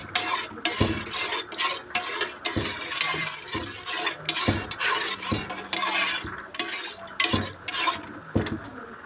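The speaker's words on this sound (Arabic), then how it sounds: "يعني هقلب كويس" Chicken being stirred in a pan or pot while cooking, a spoon scraping and clattering against the metal in repeated, irregular strokes, close and fairly loud, with a faint sizzle underneath.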